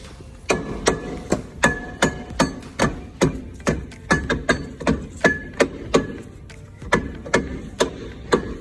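Repeated sharp hammer blows ring out at a steady, brisk pace in an automotive training shop, close and loud, each strike a crisp metallic crack.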